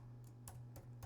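A few soft, isolated key taps on a computer keyboard, faint and close over a steady low electrical hum, with no voices.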